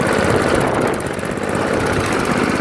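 A small-engine leaf blower fitted with an aftermarket carburetor runs with the choke off, giving a loud, steady buzzing roar that hunts slightly and dips briefly in the middle.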